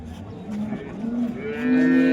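A single long, low cow moo rising in strength toward the end, close by, with faint background noise and no talking.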